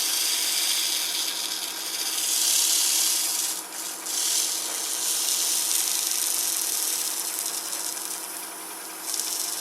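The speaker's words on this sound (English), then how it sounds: "Now I'm getting finish come off with the sanding" A wooden piece is sanded to strip its finish, giving a continuous gritty rubbing hiss with short dips in intensity, close and steady with no voices.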